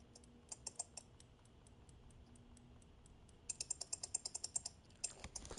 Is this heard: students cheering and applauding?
no